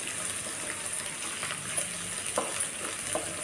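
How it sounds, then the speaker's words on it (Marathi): Ground spice paste for a dill greens dish sizzles and crackles softly as it is sautéed in a pan over a medium gas flame, with occasional scraping stirs under a steady hiss. "मिडियम गॅसवर मी हे परतून घेत आहे वाटण आपलं"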